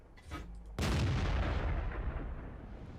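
A single heavy tank cannon shot in World of Tanks: one sharp, loud boom with a long rumbling decay, after a brief quieter lead-in.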